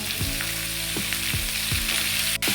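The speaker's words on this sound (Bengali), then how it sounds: "এরপরে এটাকে একটু কষতে থাকবো।" Boiled banana flower with ginger-cumin paste and turmeric sautés in a pan with a loud, constant sizzle, broken by regular spatula strokes about every half second and a brief clank near the end.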